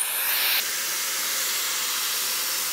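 A Shark Flexstyle hair styler blowing hot air gives a steady, close, loud hiss. The whoosh briefly shifts in tone early on, then keeps going evenly.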